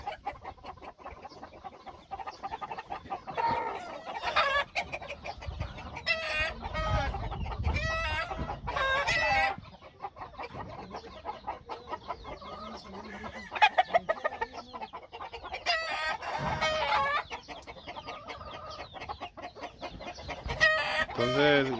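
Roosters and hens of fighting-cock breeds, including war horse and McLean lines, clucking and crowing on a ranch in Valle de Guadalupe, with dense overlapping calls and bursts that stay loud throughout.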